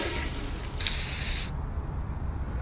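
A spray can hisses out paint onto a memorial picture in a Skibidi Toilet scene, one steady burst lasting under a second, loud and close with no talk over it.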